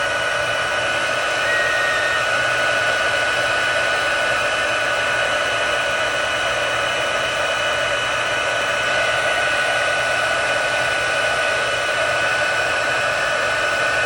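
A craft heat tool blows hot air over a faux glass tag, giving a loud, continuous whooshing roar with an even tone that holds unbroken and close throughout.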